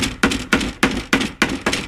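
Steady hammer blows drive trim onto the door of a 1988 Coachmen campervan, seven sharp, evenly spaced strikes about a quarter second apart, close and loud with no talking.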